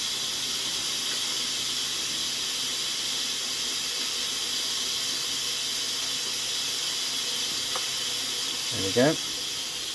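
A 1974 Goblin Teasmade 855 tea-making alarm clock boils its kettle and pumps the water over, giving a steady, loud hissing rush, then a brief gurgling burst near the end with a short spoken remark.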